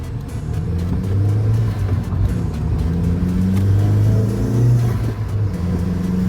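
Engine of a Mk1 Audi TT 225 during a spirited drive, a loud continuous in-cabin drone that rises and falls in pitch as the revs climb and ease off, with no talking.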